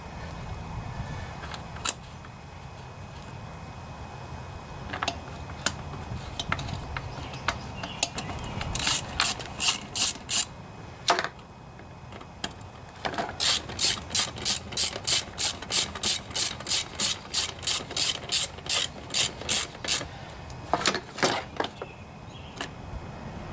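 A ratchet tightens the bolts on a Briggs & Stratton 7.25 163cc lawnmower engine head, clicking in rapid close bursts between pauses and handling noise, with no talking.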